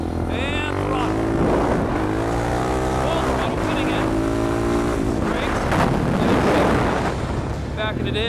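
Supermoto motorcycle on a race track, its engine close and loud as it accelerates and shifts through the gears over wind noise, with a rider talking over it.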